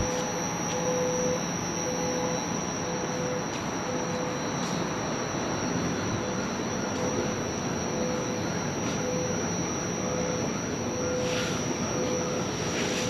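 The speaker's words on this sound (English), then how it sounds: "the idling LRT trains are extremely loud" Loud, constant rumble of idling TTC Line 5 Eglinton Crosstown light rail trains with a steady electrical hum and a faint repeating tone, filling the space without pause.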